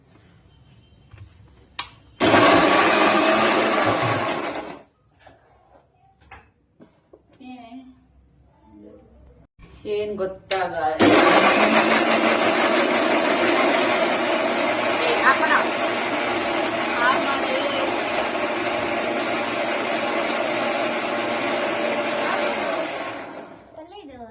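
A kitchen mixer grinder (mixie) whirs loudly in two bursts, a short run then a long sustained grind of about thirteen seconds, with a voice speaking briefly in the quiet gap between.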